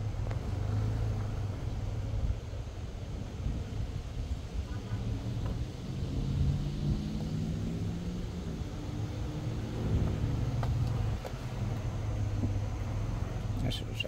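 A 2021 Chevrolet Silverado 1500 Custom Trail Boss pickup rolls off-road through a small dip, its engine a low steady rumble with bumps and rustling from the terrain, heard from inside the cab.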